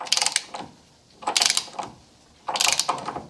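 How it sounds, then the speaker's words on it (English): A ratchet tightens the pitman arm nut on a 1978 Corvette during a Borgeson power steering upgrade, giving three close bursts of rapid metallic clicking separated by short pauses. "let's go ahead and get this pitman arm tightened down"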